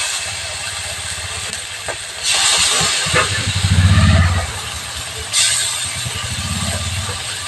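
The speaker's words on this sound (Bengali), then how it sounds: "বাটা মাছটা প্রথমে হালকা করে ভেজে নেবো" Bata fish lightly frying in oil hisses steadily under a low background rumble. Two loud bursts of sizzling flare up close by, and no one speaks.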